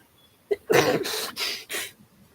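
A sharp intake of breath followed by a forceful sneeze and a couple of breathy exhalations, close and loud.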